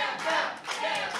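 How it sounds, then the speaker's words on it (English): A wrestling crowd at an IWE World Title match chanting for Gentleman John Campbell, rising and falling in two loud rhythmic swells of massed voices. "And the Campbell chants run wild."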